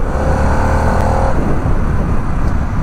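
A Harley-Davidson Pan America adventure motorcycle engine revs high with a deep tone, a loud close steady roar that holds a higher pitch briefly before settling.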